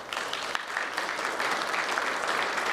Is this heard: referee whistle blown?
no